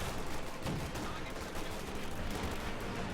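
Riflemen fire an anti-tank rifle grenade in Company of Heroes 2, a sharp report with a burst near 0.6 s amid continuous gunfire and battle noise, with commentary talk running underneath.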